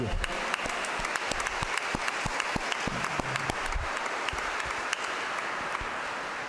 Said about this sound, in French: Alors, on pourrait applaudir Yvon Bélanger qui est présent parmi nous et Yves Garand pour l'orgue.